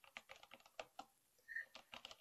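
Soft, clicky key presses on an Astrohaus Freewrite Alpha keyboard, a quiet run of irregular keystrokes in a short burst, then a pause and a few more taps, heard close and alone.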